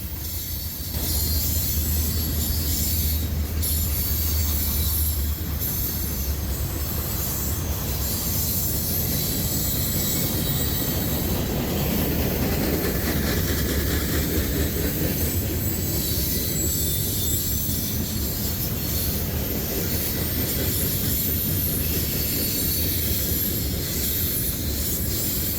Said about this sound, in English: We'll see train 126 two more times as it moves east towards Roanoke.